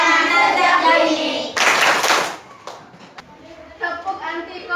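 Young children chant an anti-corruption clapping rhyme in a classroom setting. Their sung voices are punctuated by a short burst of sharp, close hand claps, then faint taps before the chanting resumes.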